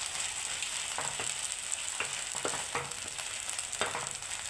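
A soy-sauce mixture for gobi manchurian fries in a pan, a faint, steady sizzle with several soft scrapes of stirring spread across it, close by, with no voices.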